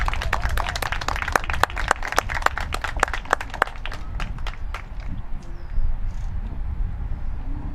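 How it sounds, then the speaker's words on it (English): Audience at a school honor society induction ceremony claps for the team members, a dense patter of hands that thins out after a few seconds into sparse claps and room noise. "If I could get a round of applause for all of our fantastic SMART team members."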